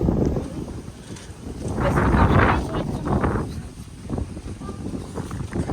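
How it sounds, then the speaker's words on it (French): Gusty outdoor wind buffets the microphone with low rumbling surges that swell and ease, near a hillside funicular on a school trip, with faint voices underneath. "Ah, le vent!"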